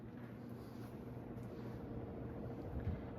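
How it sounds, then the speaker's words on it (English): A Heritage Alliance 42-inch ceiling fan running on high speed at about 210 RPM, giving a steady low moaning hum with soft airy rush, constant and unbroken throughout. "High speed seems like it has a moan to it when it runs."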